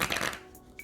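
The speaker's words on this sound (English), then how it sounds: "So we're gonna do a quick shuffle." A deck of tarot cards gets a quick riffle shuffle up close, a short burst of fluttering card snaps that fades out within a second, with no voices.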